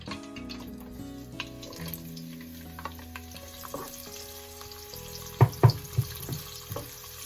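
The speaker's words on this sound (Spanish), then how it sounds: "vamos a sofreír primero la cebolla" Onion sizzles in hot olive oil in a pot for a Cuban ropa vieja, crackling steadily while a utensil stirs and scrapes, with a few sharp clatters near the end and no voices.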